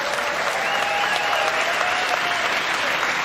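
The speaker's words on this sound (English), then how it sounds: "I hope they're not cheering" A stand-up comedy audience at a Frankie Boyle show applauds in a dense, steady roar that fills the whole stretch, with no single voice standing out.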